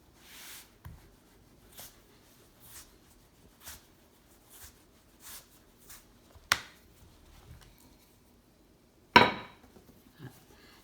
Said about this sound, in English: I will show you how I cut with a knife